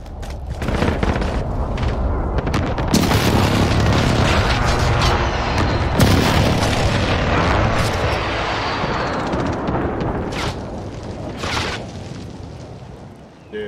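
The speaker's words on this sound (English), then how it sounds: "Enemy precision airstrike! Take cover!" A precision airstrike in a military video game lands as a dense, continuous barrage of loud booming explosions that rolls on for many seconds without a break.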